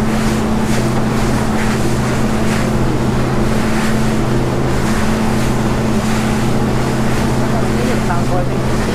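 Twin diesel engines drive an SR25 flybridge cruiser, a steady loud engine drone with low tonal hum, mixed with continuous wake wash, water rush and wind buffeting the microphone throughout.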